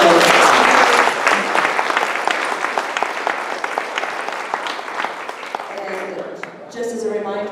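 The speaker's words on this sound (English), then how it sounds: "Let's give a round of applause for" Audience applause at the end of a community meeting presentation, a loud sustained crowd of clapping hands that gradually thins and fades, with voices starting to talk near the end.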